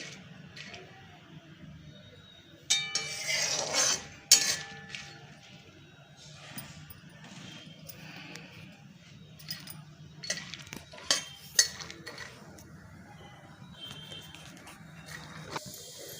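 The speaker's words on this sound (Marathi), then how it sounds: "ड्रायफ्रूट्स भाजलेले आहेत काढून घेते मी डिशमध्ये" Roasted dry fruits for carrot halwa are scooped from the pan into a dish, with scattered clinks and scrapes of a spoon against metal in bursts over a quiet background.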